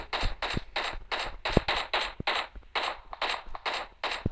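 Rapid gunfire in the video game PUBG: about a dozen sharp bursts in a steady, fast rhythm, loud and close, with no voices.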